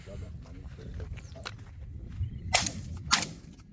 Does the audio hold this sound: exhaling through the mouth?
no